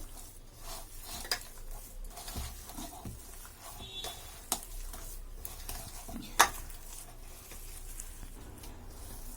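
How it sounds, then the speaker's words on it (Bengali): Taro kofta mixture being kneaded and mixed by hand in a bowl, soft squishing and patting with occasional clinks of utensils against the dish, quiet and close with no talking. "আমি এখন সুন্দর করে মেখে রাখতেছি"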